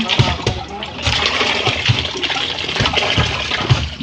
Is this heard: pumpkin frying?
no